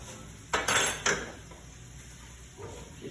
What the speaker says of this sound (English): And drain some of the fat. I like to just do it with a spoon.